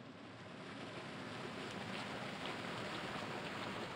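Steady rushing water of a waterfall in the fantasy video game Dread Delusion, a dense broadband roar that holds even and loud for the whole stretch with no talk over it.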